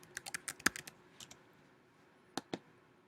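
Quick bursts of computer keyboard keystrokes as a password is typed, a cluster of close clicks followed after a pause by two more isolated taps, with no talk.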